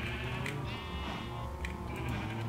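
In the video game Minecraft, sheep on a farm bleat in a couple of short, nasal calls over a steady game background, moderately close and without talk.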